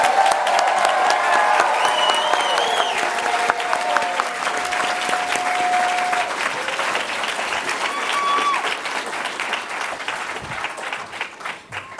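An audience gives a long, loud round of applause for 20 award honorees at a 20 Under 40 awards ceremony, dense crowd clapping that fills the room and slowly tapers off, with a few voices and cheers mixed in.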